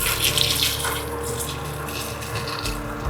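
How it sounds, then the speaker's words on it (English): Hot water pours steadily into a cooking pan on the stove while steamed buns are being made, a continuous close splashing gush that runs the full length without any talk over it. "I'm going to add more hot water."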